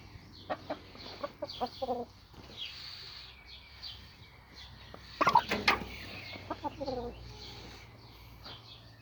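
Rooster at a farmyard chicken coop giving a few bursts of clucking and short calls, loudest in a cluster midway, with quieter clucks around it and faint background noise.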